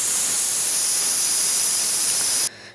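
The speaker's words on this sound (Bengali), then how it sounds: "এদিকে দেখো প্রেসারে আমার ডালটা বুঝি সেদ্ধ হয়ে গেল গো" A pressure cooker cooking dal lets out a loud, continuous steam hiss that cuts off abruptly near the end, leaving a quieter background.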